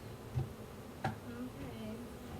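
Newly unboxed honeybees give off a faint, low buzzing drone, with a couple of soft knocks close by.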